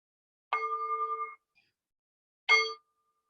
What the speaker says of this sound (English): I want to ring this bell and invite you to